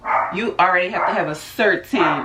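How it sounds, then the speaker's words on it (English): Dogs barking in a home, a few sharp barks and yips mixed closely with someone talking over them. "excuse the dogs, I don't even know what they're working at."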